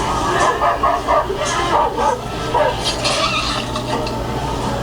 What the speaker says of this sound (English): Oh, there was a dog. I heard the dog.